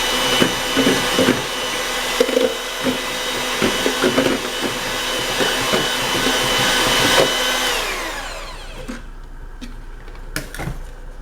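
Mapei self-leveling underlayment being mixed with extra water using a power drill paddle, a steady loud whirring churn for about eight seconds that then winds down, followed by scattered knocks and scraping.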